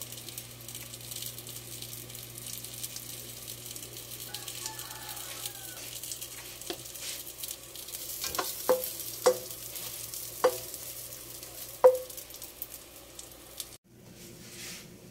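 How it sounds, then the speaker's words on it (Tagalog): A soft, steady sizzle of hotdogs frying in a pan, broken by several sharp clacks and scrapes of a utensil near the end. "Prito muna ako ng hotdog."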